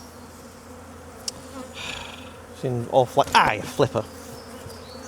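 Honey bees hum and buzz near the entrance of a hive, a continuous soft drone beneath a person talking briefly, with a few sharper rustles and knocks.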